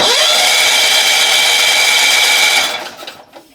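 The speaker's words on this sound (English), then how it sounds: "We'll just turn it over without fuel and blow out the excess fuel." A John Deere 70 skid-steer engine cranks over steadily with its spark plugs removed and no fuel, a loud continuous whirring drone that runs for about two and a half seconds, then winds down and stops.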